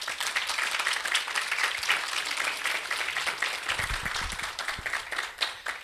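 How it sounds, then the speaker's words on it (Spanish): An audience claps warmly after a call for applause at a research presentation event, a dense, steady patter of many hands lasting the whole stretch with a few louder claps near the end. "para los que pido un caluroso aplauso."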